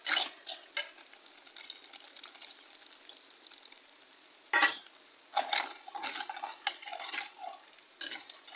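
Tomatoes with rock salt are stirred and sautéed in a pan, soft sizzling under intermittent scraping strokes of a utensil against the pan, some louder than others, with no talk.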